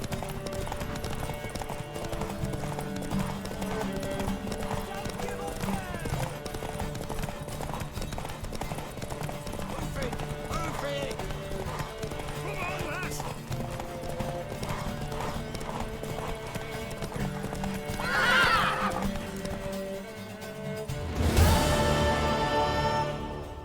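In a horse race in The Witcher 3, hooves clip-clop in a steady rapid rhythm under music, then a horse gives a loud whinny near the end.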